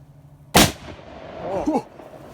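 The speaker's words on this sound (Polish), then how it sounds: "to była petarda" A Trueno No. 6 firecracker with six grams of charge detonates about ten metres away in one sharp, loud bang, followed by a faint echo and low outdoor noise.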